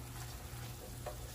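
Onions sautéing in a pan for a sausage and mushroom Alfredo sauce, giving a steady, even sizzle with a soft stirring scrape near the end, close and alone with no talking.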